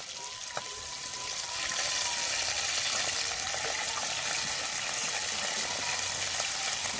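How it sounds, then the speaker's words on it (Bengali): Water pours into a pan of sautéed spices for a potato curry, giving a steady, close hiss and bubbling sizzle that continues throughout. "ভালো করে কষে নিয়েছি এবার জল দিয়ে দেব জল"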